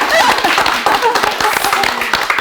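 A small studio audience on a Korean Christian TV talk show claps in quick, fairly loud bursts beneath people talking.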